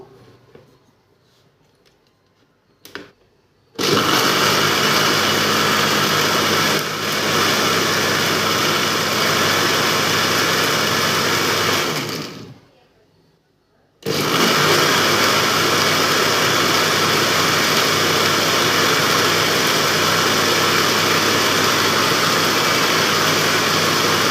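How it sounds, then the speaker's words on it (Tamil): An electric mixer grinder blends a pomegranate milkshake in its jar, with a loud, steady motor roar in two long runs separated by a short pause. "கொஞ்சம் அரைச்சி மிக்சி ஜாரில் போட்டு எடுத்துப்போம்"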